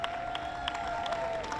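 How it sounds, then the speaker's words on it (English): An audience at a Latin American Heritage Month event in Long Beach applauds a full all-women mariachi, soft scattered clapping from a crowd at a distance. "Let's give another applause for that."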